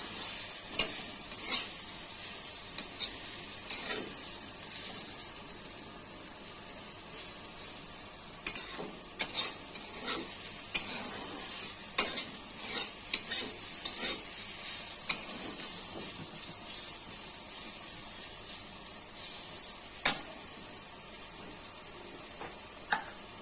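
Pumpkin, potato and bitter gourd fry in a pan with a steady, close hiss and sizzle. A spoon stirs them slowly, its soft scrapes and knocks coming every second or two.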